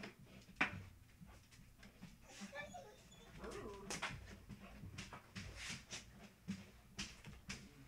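Pet dogs whimpering and giving short barks indoors, scattered yips and whines close by, with a person's voice talking softly among them.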